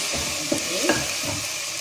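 Vada curry ingredients sautéing in a pan, a steady soft sizzle with a few light stirring scrapes over its short length.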